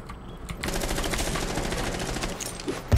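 Rapid automatic gunfire from Rainbow Six Siege rattles almost continuously for about two and a half seconds, loud and close, with a heavier thump at the very end.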